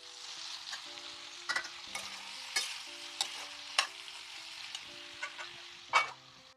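Brinjal fries in a pan with a steady sizzle while a spoon stirs it, giving several sharp scraping clacks at uneven intervals over the constant hiss.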